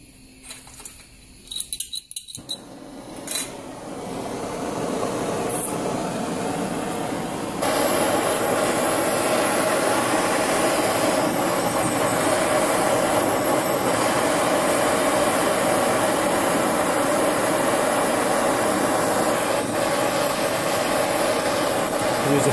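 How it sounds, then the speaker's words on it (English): A torch flame roars steadily while heating a rubber control arm bushing, starting with a few clicks and clunks, then a constant loud rushing hiss that grows stronger partway through and continues to the end. "I'm going to heat up the bushing with fire, let it all melt out and drop where the aluminum foil is"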